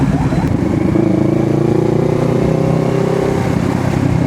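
A motorcycle engine revs up steadily and loudly up close as the rider accelerates to overtake on the road, with a constant droning roar and no talk.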